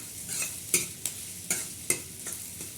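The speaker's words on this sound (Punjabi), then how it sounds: "ਤੇ ਲਓ ਜੀ ਇੱਧਰ ਭੁੱਜ ਗਿਆ ਮਸਾਲਾ" Masala frying for a bitter gourd dal tadka: a spatula scrapes and stirs the pan in irregular strokes over a soft, steady sizzle, with sharp scraping clicks standing out close by and no talking.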